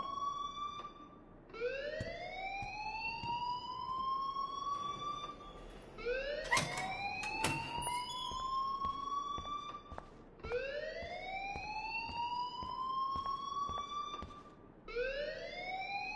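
A school alarm wails in Life is Strange, a rising siren-like tone that sweeps upward and repeats roughly every four seconds, steady and fairly distant, with a few sharp clanks mixed in.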